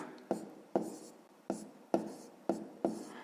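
Pen strokes scratching a math answer onto paper by hand, six distinct bursts at a steady rhythm, close and fairly quiet, with no talking over them.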